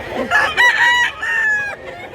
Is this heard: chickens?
yes